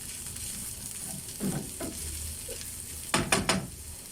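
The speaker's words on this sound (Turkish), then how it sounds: "Salçasını koyduktan sonra yeterince kavruldu." Tomato paste sizzles quietly as it is stir-fried in a pan for a lasagna, with soft spatula scrapes and a short burst of clinking stirs near the end.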